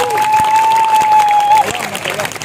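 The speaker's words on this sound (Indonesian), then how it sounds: "Tepuk tangan dulu dong." A crowd at an Isra Mi'raj religious gathering breaks into loud applause and cheering, with a sustained whistle-like tone over the clapping before it thins out.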